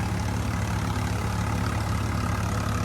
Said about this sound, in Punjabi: ਚੱਕਰ ਤੋੜ ਰਿਹਾ ਟਰੈਕਟਰ ਲਾਣ ਬਹੁਤ ਗਿੱਲਾ